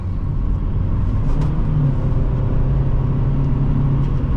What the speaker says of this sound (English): Today we're driving a 2006 Toyota Matrix with a stick shift.